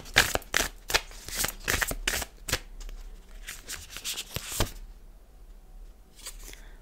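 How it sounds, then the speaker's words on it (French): Tarot cards being shuffled and drawn, a rapid run of crisp, close riffling flicks and slaps, then a short pause and a few softer card sounds at the end. "je vais juste vous prendre une carte en plus"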